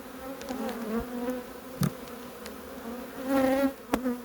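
A honeybee swarm in a trap hive, buzzing steadily and fairly close, with the hum rising and falling as the agitated colony moves, plus a few brief knocks.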